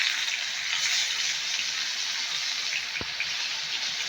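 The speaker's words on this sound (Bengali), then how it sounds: "তো চলুন এটা ফ্রাই হতে দিচ্ছি কিছুক্ষণ" Taro leaf fritters coated in gram-flour batter frying in hot oil, a steady bubbling hiss throughout with one small pop near the end, close and fairly loud.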